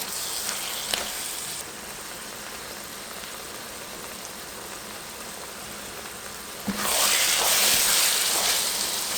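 Tomatoes frying in a pot of goat meat and chicken stew with bell pepper give a soft, steady sizzle, growing louder and brighter in the final seconds.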